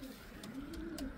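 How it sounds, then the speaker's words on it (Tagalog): Racing pigeons coo softly and continuously in a loft, a low steady murmur of several birds with no talk over it. "Ito, may dalawa tayo mga kalapatids."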